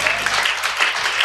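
A church congregation claps together in a fast, dense burst of applause during a Tamil Christian sermon, the clapping continuous and fairly close.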